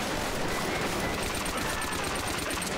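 Sustained machine gun fire from an enemy gunner in a Call of Duty campaign, a dense, continuous rattle of rapid shots mixed with the game's battle noise, with no talk.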